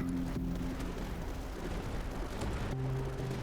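Explosions in the tower defense roguelike video game Tower Dominion make a continuous rough, booming blast noise that stays loud throughout, layered over sustained game music tones.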